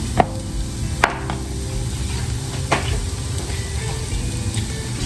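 Onion hitting melted butter in a pot gives a steady close sizzle, with a few sharp clanks of utensil against the pot near the start and again around the middle.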